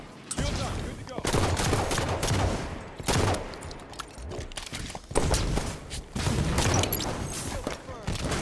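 Rapid bursts of automatic gunfire and booms crackle through a Halo 5 multiplayer match, dense and continuous with brief lulls, while players talk over the shooting.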